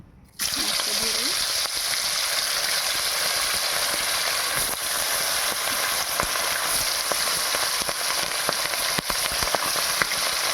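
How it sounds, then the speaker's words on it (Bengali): Steady, dense sizzling of siphon fish frying in hot oil in a wok, a continuous crackle with occasional sharper pops throughout. "লাল করে মাছগুলো ভাজা হয়ে গেছে"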